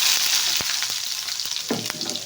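Mustard seeds and urad dal frying in hot oil, a steady bright sizzle with a few sharp pops and crackles scattered through it, close and fairly loud, with no voices.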